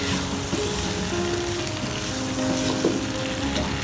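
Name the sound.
potatoes frying with spices for aloo palak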